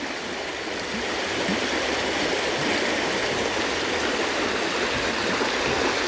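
Fast-flowing floodwater rushes past a village after a flood, a loud, dense, unbroken roar of churning water with no voices.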